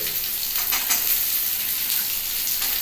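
Vegetables including papaya, carrot and green chilli fry in a pan for a mixed-vegetable moong dal, giving a steady broadband sizzle with faint scraping stirs, close and continuous with no talk.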